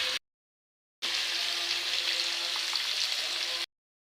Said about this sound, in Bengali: ভাজি করে নেবো এটাকে একটু।